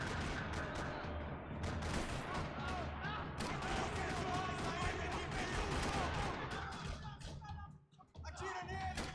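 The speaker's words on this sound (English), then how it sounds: "Another parking lot rattling with gunfire." Gunfire rattles through a parking lot in the video game Max Payne 3, dense overlapping bursts of automatic shots and impacts close by, loud and nearly continuous, easing briefly near the end before resuming.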